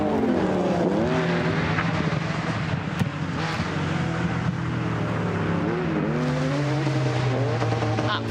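Rally cars on a forest stage, an F2 Nissan followed by an Audi Quattro S1, rev and accelerate, the engine notes rising and falling through gear changes over a steady roar, fairly close and continuous.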